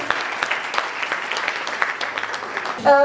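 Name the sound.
loud audience applause for a guest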